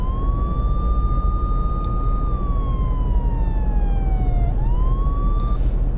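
A police car siren in the Euro Truck Simulator 2 video game wails steadily, its single tone rising and falling slowly over a constant low engine drone, clear and close without speech.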